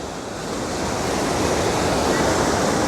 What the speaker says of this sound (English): Listen to the power of the water.